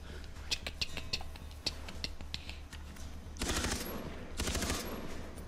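Rapid gunfire at a boar in the video game Far Cry 3: faint, quick clusters of shots with a couple of denser bursts, heard quietly with no one talking.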